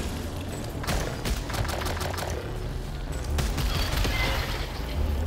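Rapid bursts of weapon fire from the video game Returnal crackle through a busy mix of game effects, several quick clusters of sharp shots at moderate volume with no talk.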